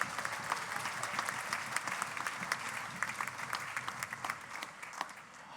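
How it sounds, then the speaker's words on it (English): An audience at the Hoosier Star 2021 talent competition claps steadily in a sustained round of applause, moderately far and fairly quiet, with scattered sharper claps and no talk over it. "so please give them a round of applause."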